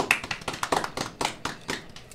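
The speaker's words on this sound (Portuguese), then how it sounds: "Uma salva de palmas." A small group claps at a theatre school event, a few pairs of hands giving sparse, uneven, close-up applause that lasts about two seconds.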